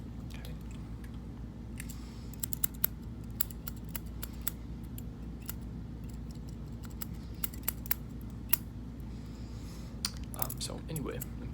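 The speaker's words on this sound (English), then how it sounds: "Get my other scissors out real quick" Scissors snip hair in quick, irregular clicks close by, with a steady low hum underneath and faint talk in the background.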